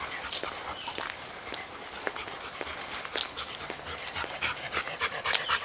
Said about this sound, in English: You can probably hear Bo breathing like crazy, panting.